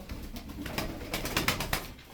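Tane pigeons, a flock of game birds, coo in a steady low murmur, with several soft repeated calls overlapping near and fairly loud throughout and no talk.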